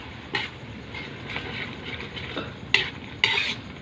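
Eggplant sizzling in a frying pan as the pan is shaken, a steady crackle with a few louder scraping, rattling bursts of pan movement near the end.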